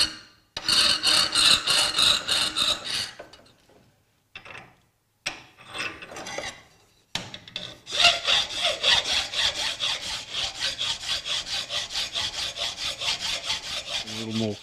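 Metal files rasp against a dollop of aluminium in short bursts of scraping strokes, then settle into a steady, rhythmic back-and-forth filing, close and loud.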